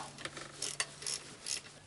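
A ratchet loosening a 10mm bolt on a 2003 Honda Civic's power steering pump, a few quick clicking bursts of the pawl, close and fairly quiet.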